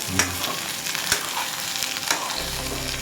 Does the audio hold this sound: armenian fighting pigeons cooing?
no